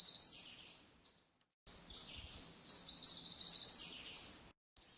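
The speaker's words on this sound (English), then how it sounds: "Here is a sweet little black-throated blue warbler" A black-throated blue warbler sings on a rainy woodland walk at Holt Pond, with bright, buzzy rising phrases repeated several times and separated by short pauses.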